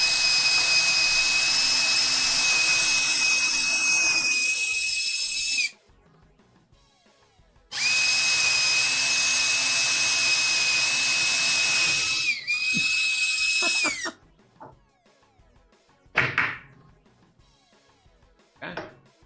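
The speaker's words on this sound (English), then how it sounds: "I'm going to go ahead and pre-drill it" A power drill pre-drills holes in wood for a miter saw station, running in two long loud steady bursts with a whining tone, then a few short taps and brief handling knocks.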